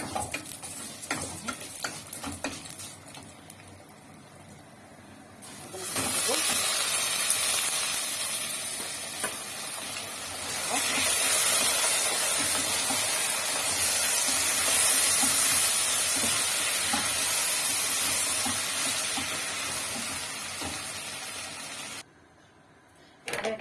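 Vermicelli and rice with large chunks of beef stir-fry in a hot pan, a steady sizzling hiss swelling after a few seconds and running loud and close, broken by scraping stirs, then briefly dropping away near the end.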